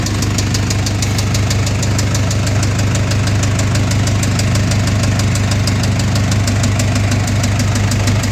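Running car engine at 276,000 km with a steady, rapid metallic knocking from a worn bearing beating through its loud idle, continuous and close.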